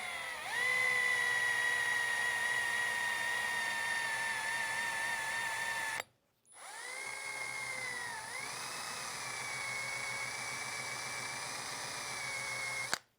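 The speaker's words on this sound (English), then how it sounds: "We're going to go ahead and rip these off with the eraser wheel" An eraser wheel on a power tool strips decals off a truck panel, a steady high-pitched whine with a slight drop in pitch as it bites, stopping briefly partway and then starting up again.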